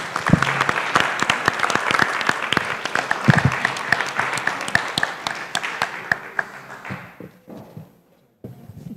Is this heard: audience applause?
yes